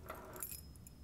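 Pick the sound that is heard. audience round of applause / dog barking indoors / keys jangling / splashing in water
keys jangling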